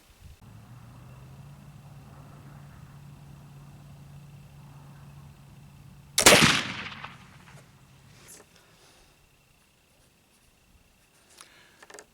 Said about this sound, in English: So let me get reloaded and take the 4th shot.